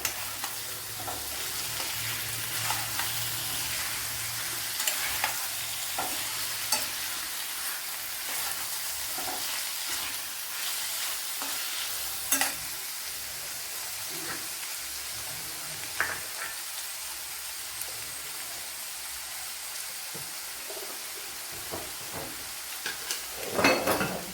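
Two medium tomatoes, added after capsicum for cauliflower masala, sizzle and fry in a pan, a steady loud hiss throughout, broken by scraping stirs and occasional clacks of a utensil against the pan, close by and with no talking.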